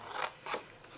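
Scissors cut through cardstock for a gift box, giving three quick, close snips, each a soft crisp rasp separated by short gaps, with no talking.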